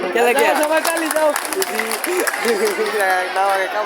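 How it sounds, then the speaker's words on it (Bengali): Audience at a Bengali song performance clapping along, a dense patter of handclaps mixed with lively crowd voices and a singing or speaking voice over the top. "শুরু করবো সবাই আগে একটা হাততালি দেওয়া আমার নামে"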